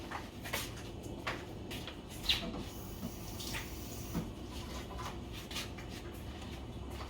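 Tap water runs steadily from a kitchen faucet as hands are wetted before forming meatballs, a soft continuous splashing stream with a few light knocks nearby.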